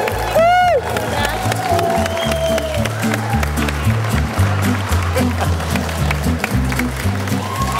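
An audience at a dog show claps and cheers while a dog is moved around the ring, with sharp whistles and voices over the crowd and a steady busy roar throughout.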